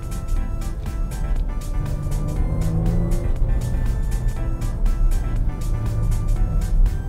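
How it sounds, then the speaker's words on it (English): Jaguar F-Pace S driven hard through left and right turns with bursts of acceleration, a steady engine and road drone with a rising and falling tone, broken by regular ticking clicks. "It's like we're doing a miniature rally in the F-Pace S."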